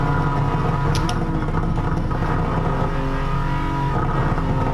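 An Aston Martin DB11 engine drones steadily in a racing video game, a loud continuous hum with a slight rise in pitch as the car holds speed.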